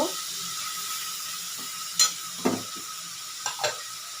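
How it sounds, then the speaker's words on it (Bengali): Onion frying gently in a pan for a prawn-paste pointed gourd dish, a low, faint sizzle under scattered spatula stirs and scrapes, with a few sharper clicks of the utensil against the pan. "পেঁয়াজটা একটু ভাজা ভাজা করে নেব।"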